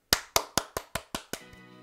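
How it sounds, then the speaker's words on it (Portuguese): Clapping from The Sims 4 video game: seven crisp, evenly spaced hand claps in quick succession, loud and close, followed by a short fading tonal sting. "Palmas!"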